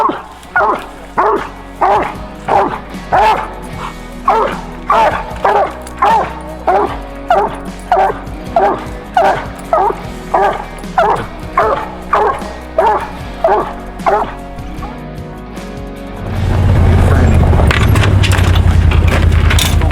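A hunting hound treeing, baying in a steady rhythmic series of loud, close barks for about fifteen seconds before a heavy rush of wind or handling noise takes over.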